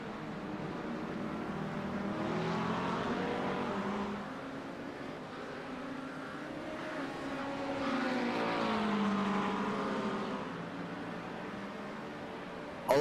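An LMP2 prototype race car at Road America during a six-hour endurance race roars past, its engine note swelling and fading in two broad passes over a constant rushing background.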